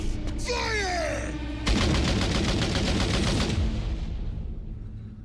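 Gunfire in a Tower Defense Simulator cutscene: after a shouted voice, a sustained loud burst of rapid automatic shots rattles for about two seconds, then fades into echoing noise.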